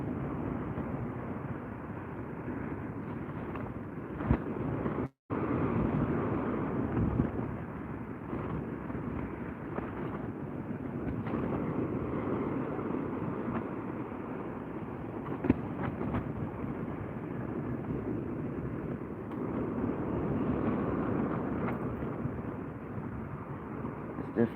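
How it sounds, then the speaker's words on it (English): Wind gusting at sea during a kayak fishing outing, a steady broadband rush with buffeting on the microphone that swells and eases throughout, with no talk over it. "Definitely gusting up at times, that wind."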